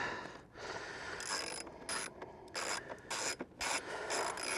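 A hand ratchet snugs down bolts on a King Tour Pack for a motorcycle: several bursts of quick, close, metallic clicking separated by short pauses.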